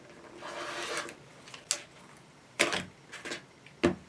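A rotary cutter slides along a ruler, trimming quilt fabric with soft rubbing strokes and a few sharp taps and clicks, quiet and close.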